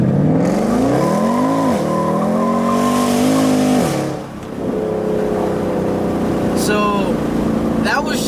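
A Mercedes C63 AMG with the P31 Development Package pulls away from a stop with wheelspin, its engine loud and close, rising in pitch through the gears with a brief dip at a shift and some tire noise.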